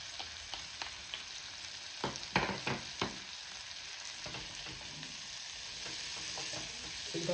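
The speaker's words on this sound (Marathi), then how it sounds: "एकदा थोडं परतून घेते." Capsicum, carrot and cabbage sautéed in butter for millet manchow soup sizzle steadily in the pan, with stirring scrapes and soft clinks breaking through, close and moderately loud without talking.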